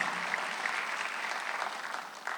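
A church congregation at a Sunday worship service claps together in a dense, steady burst of applause, moderately loud and sustained, fading slightly near the end.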